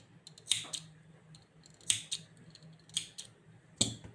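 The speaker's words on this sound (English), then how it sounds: "I can cut the last thread." Scissors cutting crochet thread, four sharp metallic snips spaced about a second apart, close and quiet against a faint low hum.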